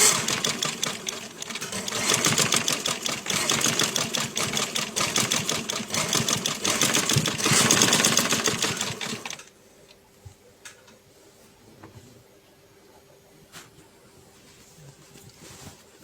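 A sewing machine topstitches a collar lining, running in a fast, steady rattling whir for about nine seconds before stopping abruptly, followed by a few faint clicks and handling sounds in near silence.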